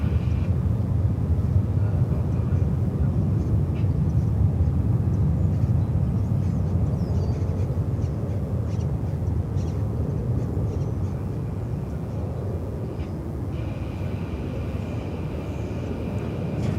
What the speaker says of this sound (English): UPS fly A300s into and out of DFW. This one's again coming in from Lubbock, Texas.